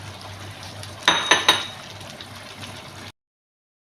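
Okra pieces and half-cooked chicken being stirred in a pot, a few sharp clinks of a spoon against the metal over a low simmering background, then silence.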